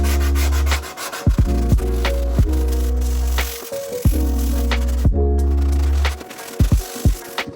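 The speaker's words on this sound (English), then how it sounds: "you're going to need a handheld sanding block to get into those corners and tight spots" Repeated back-and-forth scrubbing of a hand sanding block on wooden stairs, rough rasping strokes with brief pauses and knocks between passes, close up.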